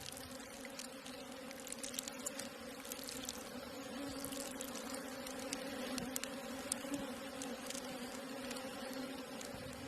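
Honeybees buzzing inside a hive, a steady low droning hum with faint flickering wing noise, continuous and fairly quiet throughout.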